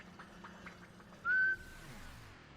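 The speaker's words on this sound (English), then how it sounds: "It turns on with a whistle." In a movie scene, a single short, clear whistled note rises and sustains for about a quarter second to switch on a bottled electric light, heard against quiet background murmur.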